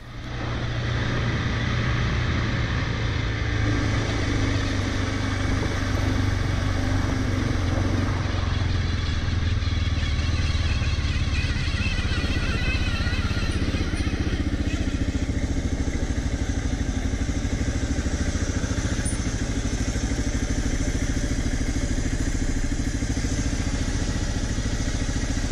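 A motorcycle engine runs steadily and close by, a continuous loud drone that shifts in pitch as it pulls away, with occasional clattering thumps, during a ride across New Zealand.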